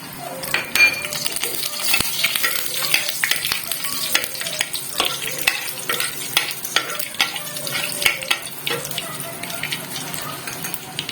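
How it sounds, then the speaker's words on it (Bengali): Tempering spices frying in hot mustard oil, a bright continuous sizzle with spoon stirring and occasional pan clinks, close and fairly loud, no speech. "এবার আমি ফোড়নটা দিয়ে দেবো।"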